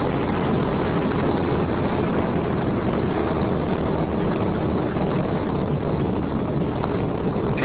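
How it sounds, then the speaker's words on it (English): Twin solid rocket motors roar during a rocket launch in a sustained, dense, steady rumble that fills the low and mid range, heard alone with no voices and a continuous wind-like texture. "Currently, the twin solid rocket motors are performing nominally."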